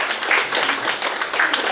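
A crowd applauds at a Women's Day event, a dense, steady wash of clapping that swells in a few waves across the short stretch, with no voices rising above it.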